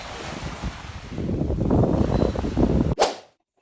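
Strong wind blows by the sea in Barangay Mamali, a steady roaring rush buffeting the microphone with gusty swells, then cutting off abruptly near the end after a sharp rustle.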